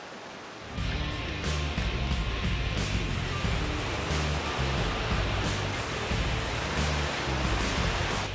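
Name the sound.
creek water flowing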